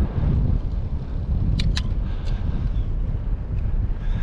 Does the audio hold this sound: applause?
no